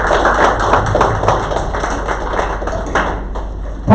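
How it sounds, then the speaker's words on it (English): Applause from the audience at a college inaugural session: a quick run of crisp, uneven claps in a hall, fairly close and loud, thinning toward the end. "Please give a round of applause."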